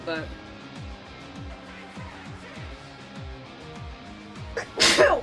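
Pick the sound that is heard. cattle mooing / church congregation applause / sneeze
sneeze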